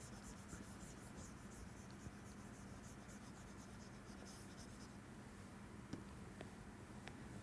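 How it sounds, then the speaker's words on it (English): During a statistical mechanics lecture, chalk or a pen scratches steadily across a board or page, faint and continuous over low background hiss, with no talking. "Okay, so let me write it down"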